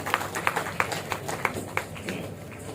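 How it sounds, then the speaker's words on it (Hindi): Audience applause welcoming guests at an international theatre festival, with steady crowd clapping in irregular bursts that continues for a few seconds. "स्वागत करते हुए तालियां बजती रहनी चाहिए"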